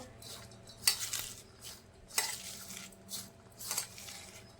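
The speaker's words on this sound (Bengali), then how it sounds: "প্রথমে আমি এগুলো খুব ভালোভাবে হাতে করে চটকে মেখে নেব" Cabbage being squished and kneaded by hand with salt and spices for pakora, giving soft wet squelches and rustles in a few bursts, close and fairly quiet, with faint clinks of a bowl.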